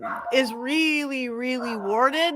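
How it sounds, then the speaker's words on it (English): A dog barks and yips repeatedly in a whining, pitched run while a person talks over it. "I'm so sorry about the dog."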